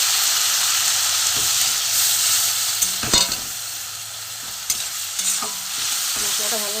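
Ghugni spice masala with grated ginger frying in a pan while being stirred, a loud, close sizzle with repeated spatula scrapes and knocks against the pan.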